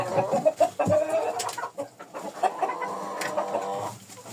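Young laying hens of this year cluck in a snowy winter coop, a close, busy run of short clucks and murmured calls with no talk over them.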